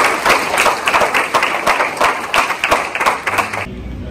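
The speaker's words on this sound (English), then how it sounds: "so we'll give her a round of applause" Audience applause, a dense wash of many hands clapping steadily for about three and a half seconds before cutting off abruptly.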